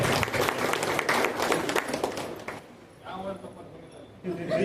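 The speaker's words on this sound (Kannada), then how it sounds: "ಬಟ್ ಅವರಿಗೋಸ್ಕರ ಒಂದು ದೊಡ್ಡದಾದ ಚಪ್ಪಾಳೆ" A crowd claps loudly at a government transport office's annual function in Dharwad, honouring the women's World Cup winners. The dense applause lasts a few seconds, fades, and then rises briefly again.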